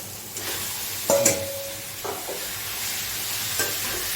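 Chicken stirred into a curry in a pan, a steady sizzle beneath a few distinct metallic spoon scrapes and clanks against the vessel, close up with no talking.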